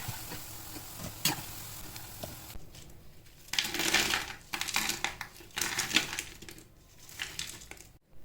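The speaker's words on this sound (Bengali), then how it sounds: "বাকি ভাজা মাঞ্চুরিয়ানগুলো আবার ভেজে নেব" Gobi manchurian, battered cauliflower pieces being fried a second time in hot oil until crisp, crackles in uneven bursts of sizzling with occasional sharp clinks, loud and close, with quieter stretches between.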